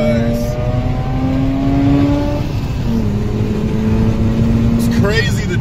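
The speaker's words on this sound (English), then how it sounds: "Let's accelerate on the freeway with these bald ass tires" A car with bald tires and dead dashboard lights accelerates on a freeway, its engine note climbing in steady rising sweeps that drop at each gear change, loud and continuous under road roar.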